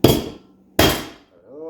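Two sharp hammer blows strike a vehicle U-joint during its replacement, each a loud metallic smack with a short ringing decay, spaced under a second apart, followed by a faint metallic ring.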